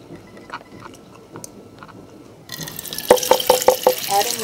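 Water being poured into a blender for a carrot smoothie: quiet kitchen sounds at first, then a gurgling, splashing pour with a few sharp glugs.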